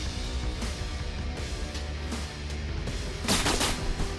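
Enemy suppressive gunfire in the rat-soldier war game Ratten Reich, with steady, overlapping rattling shots over a dense battlefield rumble and a sharper cluster of bursts near the end.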